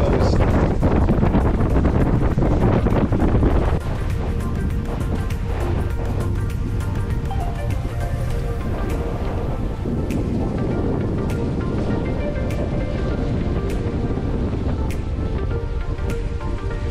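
Wind rushes steadily over a sailboat under way at about five knots, with broadband roar and water wash continuous throughout and no talk.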